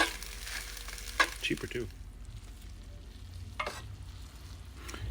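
Meal-prep food sizzles and fries in a pan, a soft continuous crackle with occasional stirring clatters, fairly quiet, with a brief spoken remark over it.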